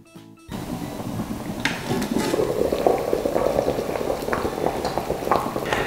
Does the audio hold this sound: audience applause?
no